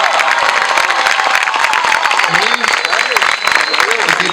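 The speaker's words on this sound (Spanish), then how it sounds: "Un aplauso." Audience applause honoring Malvinas war veterans at a national youth camp in Argentina, a dense steady wash of clapping with cheers and scattered shouts throughout, loud and close, with some voices calling out over it.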